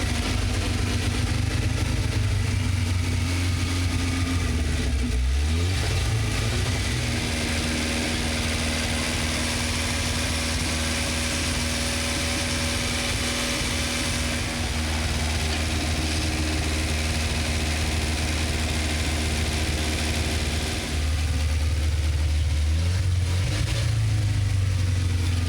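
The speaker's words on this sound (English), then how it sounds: "Yes, the vehicle has started. A noisy beast." An abandoned police SWAT truck's engine runs loud and close after starting, a rough continuous idle with deep low rumble and a couple of brief revs rising and falling in pitch, no talk over it.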